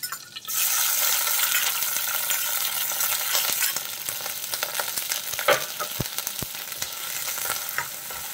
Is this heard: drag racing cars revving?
no